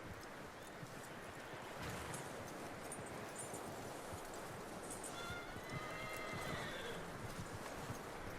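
A horse in the Red Dead Redemption 2 video game whinnies and shifts about, a faint neigh rising late over a dense bed of outdoor ambience and rustling, with no clear talk.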